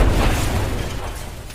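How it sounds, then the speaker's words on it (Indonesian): A warehouse explodes in a film, heard as a dense, rumbling blast that starts loud and decays slowly over more than a second. "gudang yang meledak"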